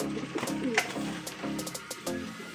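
Racing pigeons coo softly in repeated low, throaty calls, close by, with a faint rustle and background noise.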